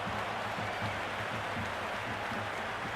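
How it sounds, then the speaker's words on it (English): Crowd noise from a Cricket 26 video game match between Delhi Capitals and Lucknow Super Giants, a dense continuous roar with a low hum beneath, steady and unbroken throughout. "It's evident and ever so audible that the crowd is at near bursting point at today's play."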